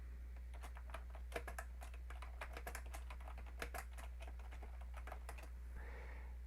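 Fingers tap out a name on a computer keyboard in a quiet room, a quick irregular run of crisp clicks and clacks that pauses near the end, with a faint hum underneath and no speech.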